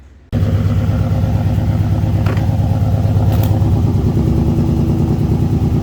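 A Ford BA XR6 fitted with a custom full exhaust starts up and runs steadily, its loud, deep engine note holding close and continuous with slight revving fluctuations and no talking.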